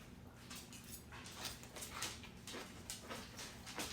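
Dogs at home give faint, scattered whines and small yips, quiet and somewhat distant over a low background hum.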